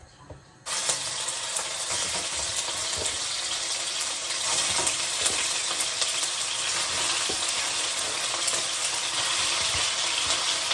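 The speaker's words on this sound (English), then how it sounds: "This is what the chicken frying off currently looking like" Chicken fries in a pan with a steady, bright sizzle that starts suddenly and continues evenly, with occasional faint clinks of stirring.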